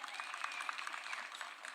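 Faint applause from an audience at a live Kenyan business start-up capital event, a steady patter of clapping running throughout.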